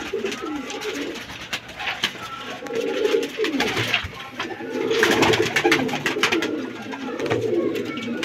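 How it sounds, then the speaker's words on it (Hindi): A flock of Teddy Parwazi pigeons coos continuously and fairly close, with overlapping throaty calls rising and falling in waves over a constant rustle. "ये सारे कबूतर हैं"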